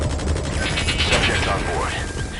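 Gunfire in Metal Gear Solid V: The Phantom Pain during an assault on an enemy security camp, a short burst of shots and mechanical clatter that is close and fairly loud, with voices mixed in.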